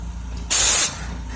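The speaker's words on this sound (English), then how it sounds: "just spray the vehicle, that's it, okay?" A pressure washer sprays a vehicle during car detailing, a loud burst of hissing spray lasting about a third of a second before cutting off, with quieter background noise on either side.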